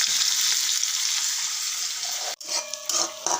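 Curry leaves hit hot oil with a loud, steady crackling sizzle that runs unbroken, then cuts off abruptly near the end, followed by quieter, patchy spitting and faint tonal clinks.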